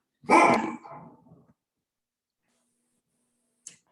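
An Airedale terrier lets out one loud, close bark that trails off into a low growl, followed by silence and a brief faint yip.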